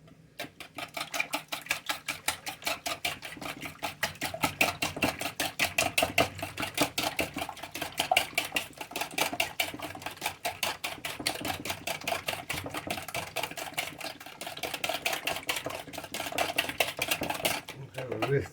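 Rapid, steady clicking of a whisk beating quiche filling in a bowl, a continuous metallic tapping rhythm that runs without pause for the whole stretch, close and prominent.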